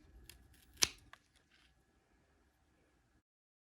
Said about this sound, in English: you cut diagonally with clean scissors just below it.